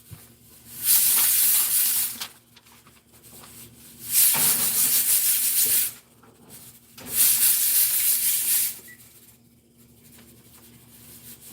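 Lentil peas cooking in a home kitchen give off bursts of hissing, each about two seconds long, repeating three times with quieter gaps between, fairly faint and with no one speaking.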